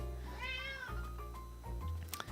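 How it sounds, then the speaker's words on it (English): A pet cat meows close by, two short rising calls in quick succession, fairly quiet indoors with no talking. "Oh, my cat is meowing at me."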